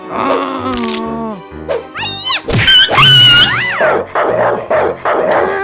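A cartoon dog barks in a short burst of loud, close, yappy calls amid other lively animated sound effects and voices, within a paper-doll dress-up story.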